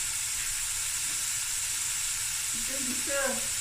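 Bones and garlic frying together in a pot for a Cape Malay tomato bredie, giving a steady broad sizzle throughout with a brief louder crackle near the end and faint voices in the background.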